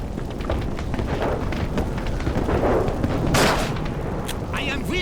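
Gunfire in the first-person shooter NecroVisioN comes as repeated booming shots and blasts over a dense, rumbling battle din, with a voice heard briefly.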